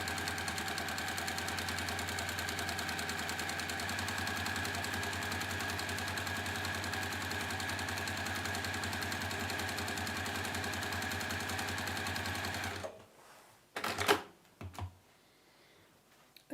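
A sewing machine runs steadily for about thirteen seconds, stitching zig zag quilt diagonals with a loud, even mechanical whir, then stops, leaving a few brief clicks and thumps.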